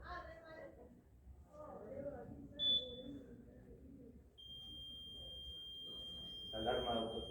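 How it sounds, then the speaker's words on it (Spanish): A device's shrill self-test alarm sounds alone as a steady high-pitched electronic beep for a few seconds, briefly preceded by a short chirp amid background talk. "La alarma de autotesteo, un poco chillona."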